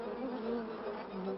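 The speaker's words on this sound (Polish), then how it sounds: "Cały rój podniósł alarm." A dense, continuous buzzing of many bees fills the short moment, close and steady with a wavering pitch.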